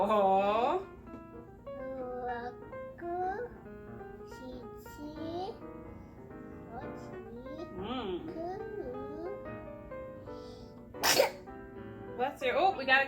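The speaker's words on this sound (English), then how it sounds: "we gotta cover our mouth when we sneeze" A toddler sneezes during a kitchen hummus-cooking session with kids, a sharp burst standing out near the end, with a child and an adult talking throughout.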